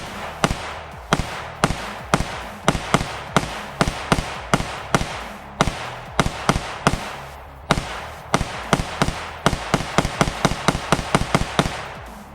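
Guns fired at a zombie target on a shooting range, with rapid sharp reports coming in irregular strings of shots, loud and close, some fast bursts near the end.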